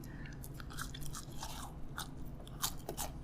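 Someone chewing fries up close, wet crunchy bites and mouth noises in an irregular rhythm over a low background hum.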